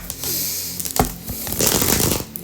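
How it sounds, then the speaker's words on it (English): A deck of tarot cards being shuffled at a reading, quick papery riffles and flutters with a sharp slap near the middle, close up and with no talk. "This deck does not want to shuffle."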